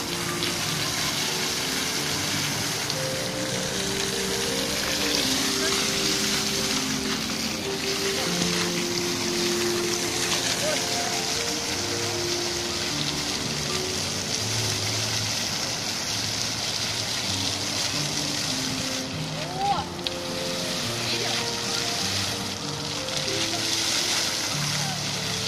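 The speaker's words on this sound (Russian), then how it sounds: "О, вода пошла на меня" A musical fountain near the Grand Canyon sprays water in a constant hissing rush, with music playing underneath and a voice briefly heard over the steady spray.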